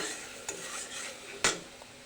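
Spices with turmeric and chili powder being stirred with hilsa fish in a pan, a steady low sizzle under a few sharp clinks of a utensil against the metal.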